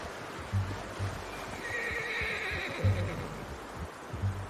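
A horse in Red Dead Redemption 2 whinnies over a steady clip-clop of hooves, with low thudding steps at intervals and a bright neigh rising in the middle, heard fairly close with no one speaking.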